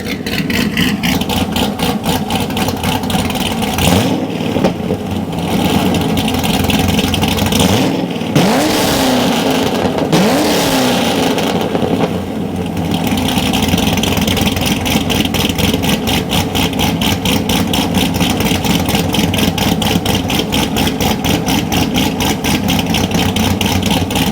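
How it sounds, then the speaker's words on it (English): A C6 Corvette's engine idles with a deep steady rumble while warming up, punctuated by a few quick throttle blips that swell and fall back, loud and close throughout. "I'm gonna let the car warm up and I'm gonna give you guys some quick little revs"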